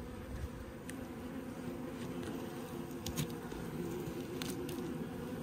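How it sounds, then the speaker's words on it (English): Wasps buzz constantly around a beehive, a dense droning hum with occasional closer passes, steady and fairly loud throughout with no talking. "There's so many wasps."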